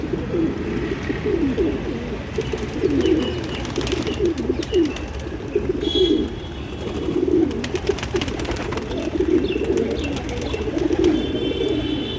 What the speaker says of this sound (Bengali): পায়রার মধ্যে দেখুন কোনো পায়রা কোনো চুপচাপ বসে আছে বা কিছু, সব হেলদি, সব ছটপট ছটপট ছটপট করছে